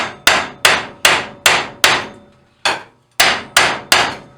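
Metal being hammered by hand to stretch and bend it into a round shape: nine loud, sharp blows in a steady rhythm, each ringing briefly, with one short pause partway through.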